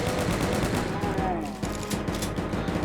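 Rapid gunfire from the video game Doom II in a mansion level, dense continuous bursts of weapon shots with other in-game effects layered throughout, loud and close.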